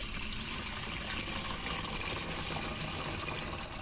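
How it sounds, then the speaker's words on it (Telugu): Water pours steadily into the tank of a Black Stone battery sprayer, a continuous close splashing and gurgling fill with no pauses and no talk. "ఇలా టోటల్ ట్యాంక్ అంతా వాటర్తో ఫిల్ చేసేస్తాము"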